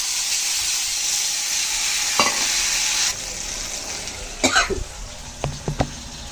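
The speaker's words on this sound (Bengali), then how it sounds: "হালকা একটু হলুদ দিয়ে দিচ্ছি তেলের উপর।" Turmeric and spices dropped into hot oil for a Bengali begun bhapa, giving a steady close sizzle that drops and thins after a few seconds, with a few short cough-like bursts and stirring scrapes near the end.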